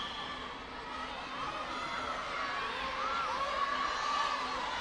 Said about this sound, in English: The crowd urging for Brunei to chuck the ball in with 5 seconds remaining.